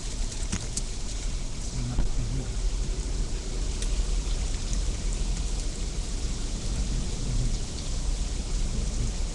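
Heavy rain pounds down in a storm core, a dense, continuous roar with steady wash and occasional louder spatters, loud and close throughout.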